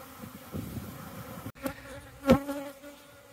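Honey bees buzzing around hives, with a close insect drone rising and fading as individual bees pass near, over a quiet background.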